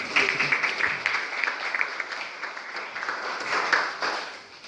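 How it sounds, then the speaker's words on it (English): Audience applause at a university botany department graduation function, a steady round of clapping from a modest crowd lasting several seconds before fading. "we'll give him a round of applause"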